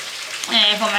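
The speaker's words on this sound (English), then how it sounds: "He's frying fish for himself." Sizzling and crackling of fish frying in a pan, a bright hissing spatter that swells partway through the short clip.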